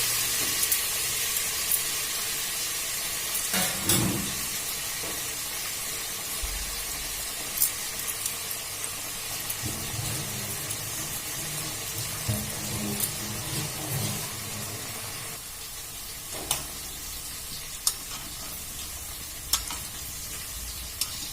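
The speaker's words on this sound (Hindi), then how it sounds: "और एकरा हम मीडियम ताव पर फ्राई कर दें ताकि ये क्रिस्पी बने और अच्छा से सीखे।" Gaja, a sweet dough, fries in oil over medium heat with a steady, close sizzle and hiss, broken now and then by soft clicks and faint stirring knocks throughout.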